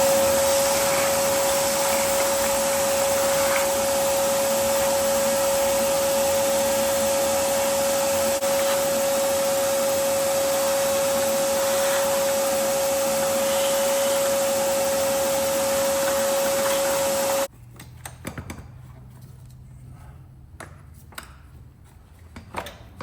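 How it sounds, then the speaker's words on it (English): A vacuum cleaner runs loud and steady with a constant high whine for most of the clip, then shuts off, leaving quiet rustling and faint knocks. "I gotta get the vacuum."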